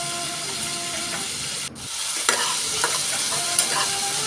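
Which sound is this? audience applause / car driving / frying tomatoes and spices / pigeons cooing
frying tomatoes and spices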